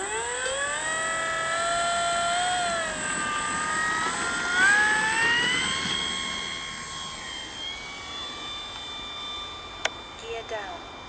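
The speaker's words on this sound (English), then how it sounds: "Maiden flight attempt 2 of the Dynam Mk1 Hawker Hurricane version 2" Dynam Hawker Hurricane Mk1 radio-controlled model plane on its maiden flight, an electric motor whine rising and shifting in pitch as it climbs away and fades, with wind noise and voices nearby.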